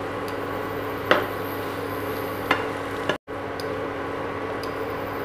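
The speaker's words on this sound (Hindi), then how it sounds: "मसाले को 1 मिनट तक मिक्स कर लेते हैं।" Ground black pepper and crushed coriander being stirred in a pan over steady frying sizzle, with a few sharp scrapes of the spoon against the metal and a brief dropout partway through.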